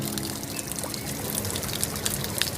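Water trickles and pours steadily over the rocks of a garden waterfall feature nearby, with small splashes and drips over an even flow.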